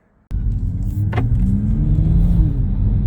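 A 2022 Toyota GR Supra MK5 fitted with a new intake, driving at night, its engine starting abruptly into a steady loud rumble and drone from inside the car, with a brief rising whoosh.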